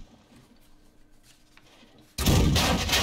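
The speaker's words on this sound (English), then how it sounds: "I fired that round in at the enemy hill" An artillery gun fires a shell in World of Tanks, a self-propelled M12 or Lorraine 155 50: a sudden loud, broad blast cuts in after quiet game ambience and sustains as a heavy roar to the end.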